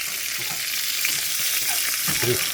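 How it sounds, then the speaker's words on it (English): Burger patty frying in a hot pan, a steady, close sizzle with bright crackling and light spattering that runs continuously through the short stretch, with no talking. "the burger's sides are pretty brown now, and I'm starting to see some smoke, so it's time to flip it"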